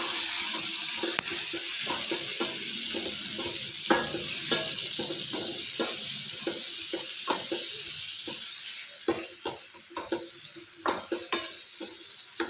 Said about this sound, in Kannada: ಇವಾಗ ಹಾಲು ಹಾಕೊಳ್ಳೋಣ. ಚೆನ್ನಾಗಿ ಮಿಕ್ಸ್ ಮಾಡ್ಕೊಳ್ಳೋಣ.